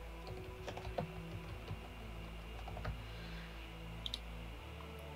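Quiet clicks of a computer keyboard as a new output name is typed into photo-stacking software, irregular soft keystrokes spread across several seconds with a low steady hum underneath.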